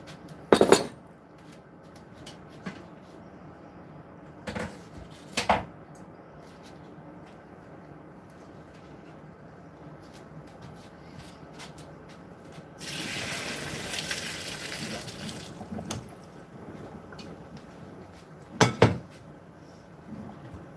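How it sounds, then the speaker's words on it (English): Cooked pasta is drained and then rinsed under a kitchen faucet, with a steady rush of running water in the middle, surrounded by scattered clatters of pots and cupboard knocks. "I'm going to rinse my pasta off really good because I had oil in there in the water."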